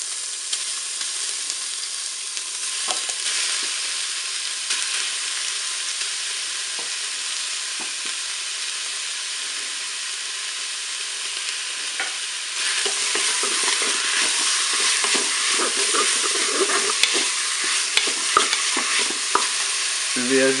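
Ground beef cooks in a Cookeo with a continuous sizzling hiss that gets louder and busier partway through, along with scattered scraping and stirring clatter near the end.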